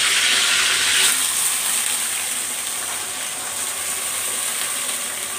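Bay leaves and rinsed lentils sizzling in hot oil in a pot, a steady bright frying hiss that swells briefly near the start, then stays even, with no talking.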